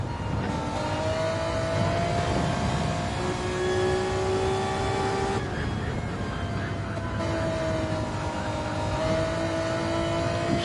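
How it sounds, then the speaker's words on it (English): A race car engine in Gran Turismo 7 roars around Fuji Speedway, loud and continuous, rising and falling through gear changes with a brief dip midway. "Oh, listen to that engine."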